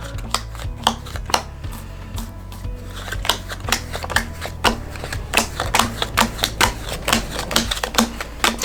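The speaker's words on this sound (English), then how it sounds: "Okay, I'm going to deal out the cards." Playing cards are dealt out one after another onto a table for a four-ace poker trick, giving a run of crisp, close flicks and taps at an irregular but steady pace, with no talking.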